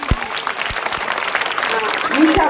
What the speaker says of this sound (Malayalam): സുന്ദരിമാരൊക്കെ ഒന്ന് കൈയടിക്കുക